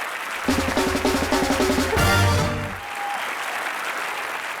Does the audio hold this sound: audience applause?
yes